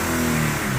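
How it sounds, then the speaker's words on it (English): Infiniti G37 engine revving up close, a steady mid-pitched drone that holds and then shifts lower near the end. "Rev it up again?"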